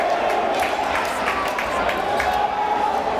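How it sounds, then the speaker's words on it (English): Somerville fans at a boys' high school basketball playoff against Andover keep up a loud, steady crowd chant that fills the gym, with rhythmic pulses and a commentator's voice audible over the noise. "Somerville fans starting the "We Can't Hear You" chant to the Andover fans"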